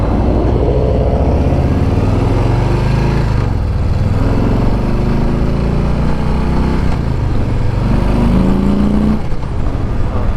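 A 2021 Harley-Davidson Softail Standard motorcycle engine running while riding, a loud, steady low rumble with slight pitch shifts as the throttle changes, wind noise mixed in, no talking.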